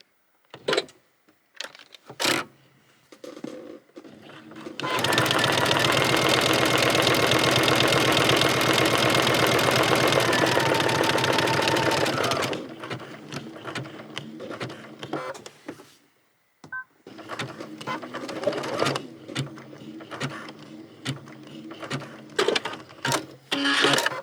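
A domestic sewing machine stitches a buttonhole through thick fabric. Short stuttering bursts of needle clatter lead into a long, steady run of rapid stitching for about seven seconds, then more halting, intermittent stitching and clicks follow.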